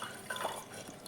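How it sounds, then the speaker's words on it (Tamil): Rice-washing water is poured into a cooking pot with lentils, making a soft, brief splashing and trickling sound, fairly quiet and close, lasting about a second. "இன்னும் கொஞ்சம் தண்ணி சேர்த்துக்கலாம்"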